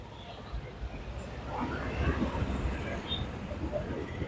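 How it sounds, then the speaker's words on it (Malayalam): A low rumbling train passes beneath a road bridge, its steady roar building slightly toward the middle and holding through the clip, with no talking. "ട്രെയിൻ പോകുന്നുണ്ട് താഴ്വശത്തൂടെ"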